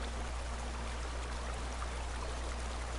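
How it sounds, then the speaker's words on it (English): Flowing creek water from the video game The Elder Scrolls Online, a constant, even rush and trickle with a steady low hum beneath, heard alone without any talking. "Oh, look at the pretty creek."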